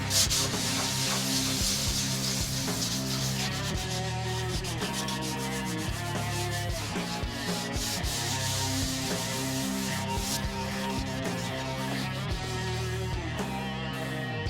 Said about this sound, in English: So I could just go over those areas with 800 just real fast before paint.